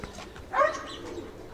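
A pigeon on a rooftop loft gives a single short, throaty coo, close and moderately loud against a quiet outdoor background.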